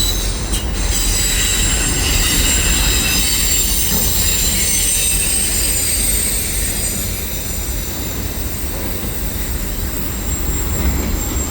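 A westbound five-engine CN freight train rolls loudly past on the Atwater curve, its wagons rumbling continuously while wheels squeal with a sustained high metallic whine, and no one speaks.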